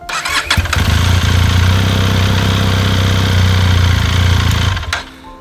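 Benelli 502C cruiser motorcycle with a muted stock exhaust, idling steadily and close for about five seconds before the engine cuts off abruptly near the end.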